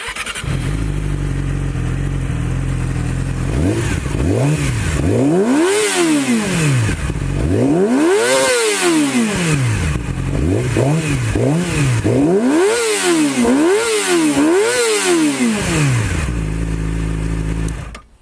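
A Yamaha R6 sport motorcycle engine revs hard repeatedly, rising and falling in sharp sweeps over a loud steady idle, close by.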